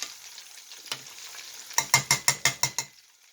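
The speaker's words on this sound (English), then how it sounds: "I'll flip them over and keep them cooking." Chicken pieces in a homemade coating fry in a pan, a steady sizzle broken by a run of sharp, rhythmic clinks and scrapes as they are stirred and turned.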